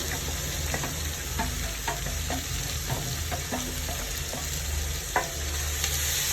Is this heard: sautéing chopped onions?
yes